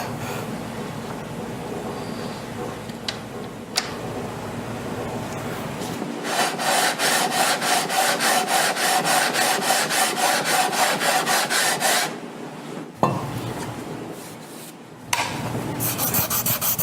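Fine-grit sandpaper rubs over a guitar fingerboard in rapid, regular back-and-forth strokes, a close, steady raspy scratching that stops briefly and starts again after a couple of light knocks.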